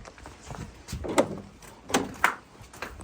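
An old door in the medieval St Mary's church at Bromfield near Ludlow is worked open, giving several creaks and knocking thuds in an irregular sequence, close and fairly loud in a quiet room.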